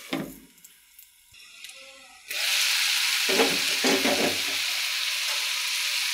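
Bitter gourd dropped into hot oil in a pan, a sudden loud sizzle that flares after a quiet moment and keeps hissing steadily, with stirring clatter over it.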